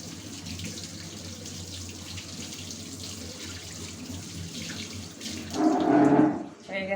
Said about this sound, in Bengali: এবার রসুন পেঁয়াজ যেগুলো কেটে রেখেছি এগুলো ধুয়ে নেবো